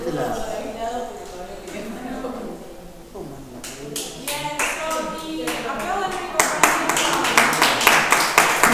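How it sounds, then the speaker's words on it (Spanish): Talking at first, then a run of sharp hand claps begins partway through, growing louder and steadier toward the end. "¿Puedo aplaudir?"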